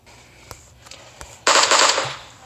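Gunfire in the video game PUBG: a few sharp isolated shots, then a loud, dense burst of rapid automatic fire lasting about half a second before trailing off, with no talk over it.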